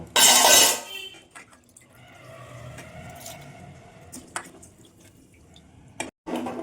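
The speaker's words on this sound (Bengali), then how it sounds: "আমি এখন চালটা ধুয়ে দিয়ে দেবো" Coarse rice being rinsed in a pot of water: a loud splashing swish at the start, then quieter sloshing, dripping and clinks of grains and pot, ending with a couple of sharp splashes.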